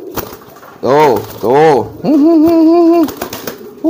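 A racing pigeon coos loudly and close up in a courtship display, giving two swelling, wavering calls and then one longer sustained coo.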